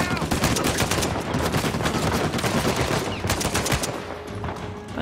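Dense rapid machine gun fire in the video game Uncharted 4, loud and sustained throughout with continuous bursts of automatic shots and no speech over it.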